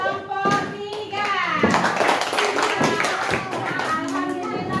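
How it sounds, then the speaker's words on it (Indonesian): Children clap together for a group in an elementary classroom, a burst of applause mixed with young voices and a teacher talking over it. "tepuk tangan untuk kelompok 3"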